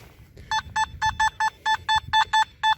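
A metal detector held over a coin target in a freshly dug hole gives a run of about ten short, evenly spaced electronic beeps, each a clean two-tone chirp, close and clear over faint outdoor background noise.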